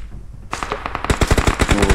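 Automatic gunfire in the mobile game PUBG Mobile, a rapid burst of loud close shots starting after a brief quiet moment and continuing in quick succession.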